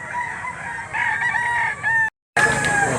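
Chickens and a rooster at the Lipa livestock auction market, the rooster crowing loudly and nearby with a long drawn call, clucking fowl around it, cut briefly by a short silent gap.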